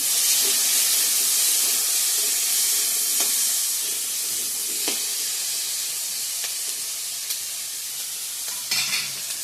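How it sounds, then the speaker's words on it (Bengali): Potatoes fry in a pan with a continuous loud hissing sizzle close by, broken by occasional scrapes and taps of a spatula as they are stirred, no one speaking. "এদিকে আমি আলু ভাজাটা বসে দিয়ে দিয়েছি।"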